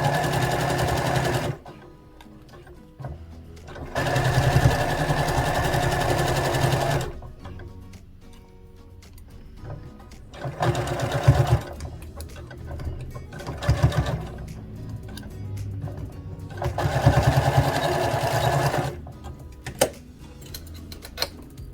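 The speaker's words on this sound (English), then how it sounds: "I'm going to start at the bottom of the shirt and sew towards the sleeve" A sewing machine runs in long bursts stitching the side seam of a bear hoodie, fast rhythmic needle chatter starting and stopping several times with quieter pauses between runs, close and loud.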